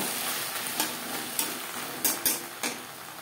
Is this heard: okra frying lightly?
yes